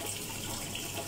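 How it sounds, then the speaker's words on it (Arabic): Water pumps run in a hydroponic vertical farming tower set up in a home garage, giving a steady, close rushing of flowing water with no breaks or voices. "هذا تشغيل المضخات ووضع المؤقت التايمر لتشغيل لمدة ربع ساعة تشغيل وربع ساعة إطفاء"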